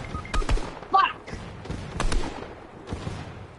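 Bursts of gunfire in the Fortnite battle royale, a scatter of sharp shots with some thuds, fairly close, over low game background noise.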